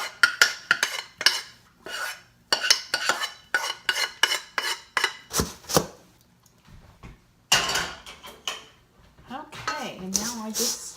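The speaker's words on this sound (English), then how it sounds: "So now I'm ready to dump that into my dry ingredients." Heated peanut butter, agave nectar and brown sugar are scraped from a pot into a bowl of dry ingredients, with close, irregular clanks and scrapes of a spoon against cookware in short bursts and no speech.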